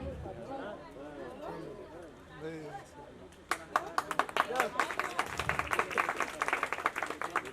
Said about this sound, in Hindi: सम्मान में ताली थोड़ा कम आ रही है